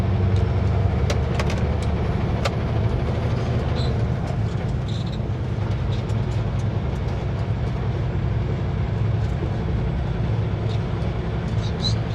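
A vehicle rumbles across an old, bouncy wooden trestle bridge on the Alaska Highway in Yukon, with a steady close road drone and scattered knocks and rattles under occasional talk.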